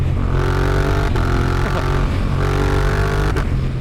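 A Suzuki GSX-8R motorcycle engine pulling hard under load, a loud close droning roar broken by quick, crisp quickshifter gear changes that briefly cut and restart the tone.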